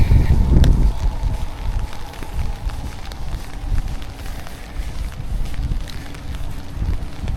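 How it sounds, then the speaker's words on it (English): Outdoor wind buffets the microphone in a constant low rumble and roar across the whole stretch, with no voice over it. "Fuck this wind."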